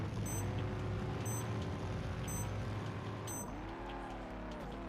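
Car engine in the Hot Wheels World Race video game, driving backwards at the start of a track: a steady loud engine drone with rising and falling pitch and small periodic chimes.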